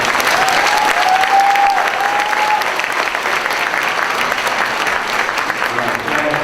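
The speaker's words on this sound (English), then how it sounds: "Let's give him a round of applause." Loud, sustained applause and crowd noise at a fifth grade graduation farewell for the middle school principal, with a thin whistle rising briefly through it early on.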